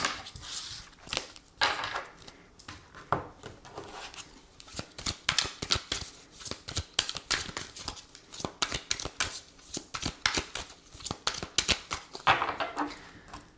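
A tarot deck shuffled and cut by hand, a long run of rapid, irregular card flicks and riffles, close and soft, continuing steadily without speech.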